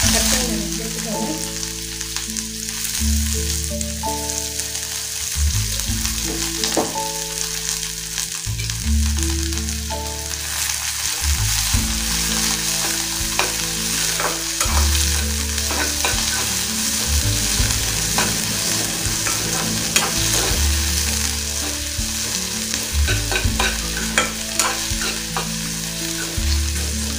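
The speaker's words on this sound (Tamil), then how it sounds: "வெங்காயம் பார்த்தீங்கன்னா நல்லா வதங்கிடுச்சு" Chopped onion, added to dried red chillies roasted in a pan for a peanut tomato chutney, sizzles and fries steadily, with recurring scrapes and clinks of stirring over a continuous hiss.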